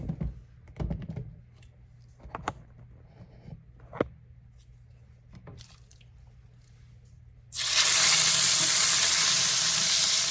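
Steak seasoned with garlic steak seasoning hits a hot pan to brown. A few scattered light clicks and taps are followed by a sudden, loud, steady sizzle that fills the rest of the clip.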